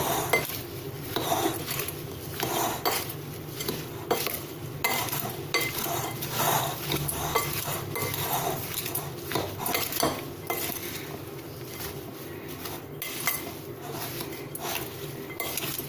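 Raw mango pickle being stirred and mashed with a spoon in a dish, continuous close scraping with clinks of metal against the dish in an uneven, busy rhythm.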